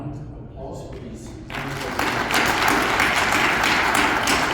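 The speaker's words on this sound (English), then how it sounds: "a round of applause for these" After a quieter start with a voice and a few taps, audience applause for an indoor agriculture conference panel swells into dense, steady clapping that holds to the end.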